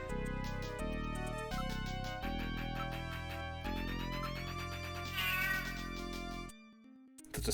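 Stock cat meow effect from the video game Snatcher: a series of clear, close, drawn-out meows with a strained, tonal quality, played alone before a short pause and a brief game tone.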